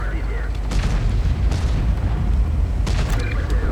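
Deep booming blasts as a Leopard tank is destroyed in a video game, a couple of heavy low explosions rolling under sustained rumbling battle noise, loud and close.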